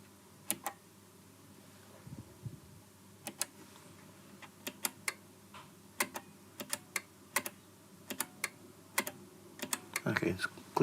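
A Fender Hot Rod or Deville amplifier on the repair bench gives off a series of sharp, irregular clicks, loud and close, with quiet gaps between them and no talk.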